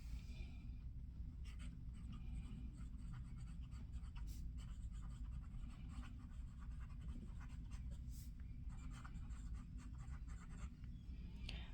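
A yellow Visconti Rembrandt fountain pen with a medium steel nib writes on paper, making faint, soft scratches in short strokes over a quiet background.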